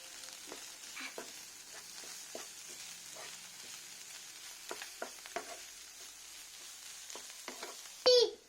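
Chicken cutlet filling with garam masala sizzles gently in a pan while a spoon scrapes and taps through it in uneven strokes, close and fairly quiet, ending with a louder clatter.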